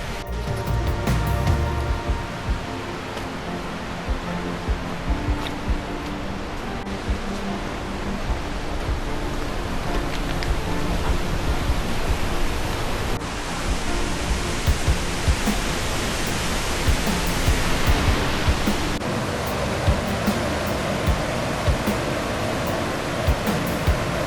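A swollen mountain river on the Rae Lakes Loop in June roars past near the trail, a loud, unbroken whitewater rush that fills the whole stretch with no letup.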